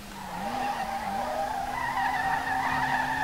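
Nissan R32 drifting in SLRR, a steady engine drone holding under a continuous high tire skid that wavers briefly early on, then settles into a long unbroken squeal.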